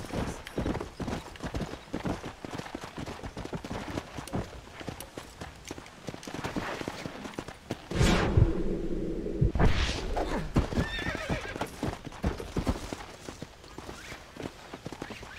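A horse in the video game Red Dead Redemption, with a steady run of close hoofbeat clip-clops and a loud, drawn-out neigh partway through, set against faint background noise.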